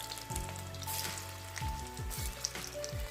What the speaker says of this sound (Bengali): এবার একে একে কোপ্তেগুলো আমি ভালো করে ভেজে নেবো লাল লাল করে